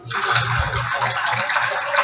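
Water poured steadily from a container as part of a church lesson on baptism, a continuous splashing gush that runs unbroken and fairly loud for about two seconds, with no talk over it.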